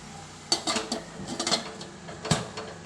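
A metal pot lid set in place over alu vadi cooking in a pan: a few close clinks and a scraping rattle, then a sharper clank near the end.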